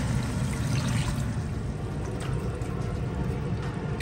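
Water poured into a cooking pot that already holds garlic and other ingredients, a steady, close, broadband rushing pour that runs unbroken for a few seconds with no talk over it.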